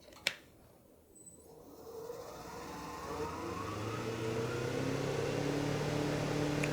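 A wood lathe spins at about 2,000 RPM while a skew chisel cuts the turning, a faint whirring hum that builds gradually and holds steady after a sharp click at the start, with no talk.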